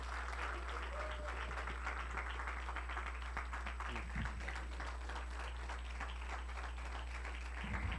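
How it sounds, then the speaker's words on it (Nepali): An audience at a discipleship training graduation in a church setting gives a pastor sustained applause, dense clapping filling the whole stretch with some voices beneath. "हामी ठुलो तालीका साथ"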